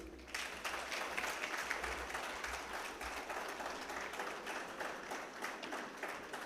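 Sustained audience applause greets a CEO panelist at a business conference, a steady dense wash of many hands clapping from a large crowd for about six seconds.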